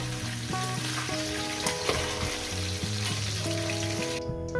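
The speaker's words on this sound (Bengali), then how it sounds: "আমার মাছের মাথাটা ভাজা হয়ে গেছে আমি মাছের মাথাটা তুলে দিচ্ছি" Fish heads fry in hot oil with a constant, close crackling sizzle that runs throughout, while tonal background music plays along.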